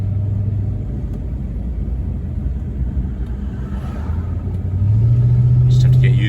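Small Hyundai car with a manual clutch pulling away, a low steady engine rumble close by that rises in pitch as it accelerates, with voices speaking over it.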